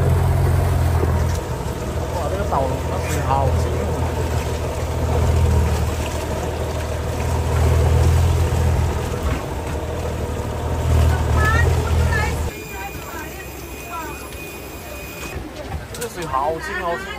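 A boat rides on the sea off Krabi's Phi Phi Island, with a loud engine drone and rushing water under chatter; near the end the engine noise drops sharply, leaving quieter wash and voices.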